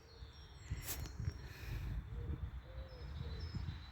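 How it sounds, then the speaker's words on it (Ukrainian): Faint, distant birdsong from a bird perched in a tree in a spring park, with a few thin chirps and whistles scattered over outdoor background noise and soft footsteps. "Десь там на дереві сидить і співає"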